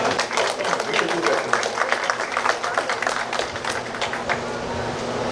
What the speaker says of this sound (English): another lusty round of applause for service well done